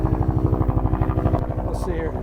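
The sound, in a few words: helicopter flying overhead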